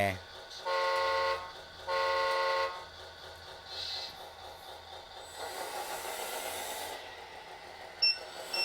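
A 1/14-scale Hitachi ZW370 RC toy wheel loader's electronic horn sounds two short, loud honks, then a softer mechanical whirring and a brief click follow.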